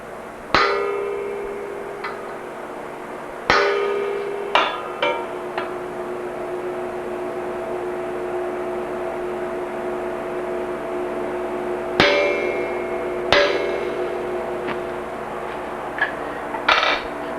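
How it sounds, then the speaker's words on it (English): Sharp metallic hammer strikes on a heavy punch marking a bicycle frame tube, a few sets of ringing clangs with long quiet gaps between them, close and loud. "I'm going to mark them with a fairly heavy punch so my drill doesn't wander on me."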